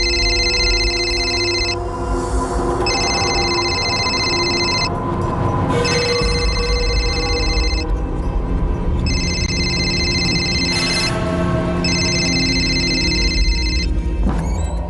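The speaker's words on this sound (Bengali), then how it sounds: "রিং হয়ে যাচ্ছে কিন্তু কেউ ধরছে না" A phone rings repeatedly without being answered, with regular ring bursts and short gaps between them, set against a loud, constant rumbling background.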